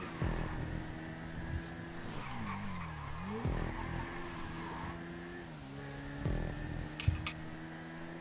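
Car in the video game GTA V held at steady engine drone while tires skid and squeal, pitch dipping and rising during a slide, with a few thumps and a sharp knock near the end.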